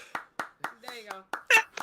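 Hands clapping in a slow series of single sharp claps, close and clear, with a voice talking over the later ones.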